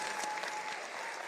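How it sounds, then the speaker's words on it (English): An audience at a town hall meeting in Kisumu gives a standing round of applause for the president, a steady wash of clapping from many hands heard from a short distance. "can we stand up and give His Excellency a round of a hearty, warm clap?"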